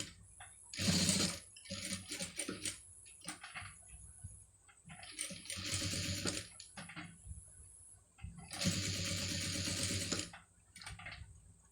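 An electric sewing machine stitching a scallop design on a blouse runs in several loud rapid bursts, separated by quieter pauses with light clicks and handling of fabric.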